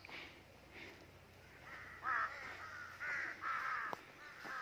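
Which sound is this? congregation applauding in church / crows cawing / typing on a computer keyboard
crows cawing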